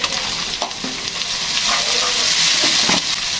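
Onion with ginger-garlic paste sizzling and frying steadily in a pan, with occasional stirring scrapes over the constant hiss.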